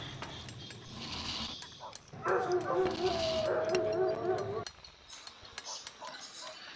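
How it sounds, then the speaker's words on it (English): A dog barks and yips in the Port Royale 2 game, a burst of repeated barks over the game's steady background ambience, loud and close before fading back. "Somebody should kill that dog"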